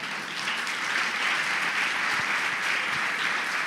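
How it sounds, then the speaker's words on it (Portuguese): Sustained applause from a church congregation during a Sunday celebration service, a steady dense patter of many hands clapping at moderate distance for several seconds, with no talk over it. "Vamos aplaudir?"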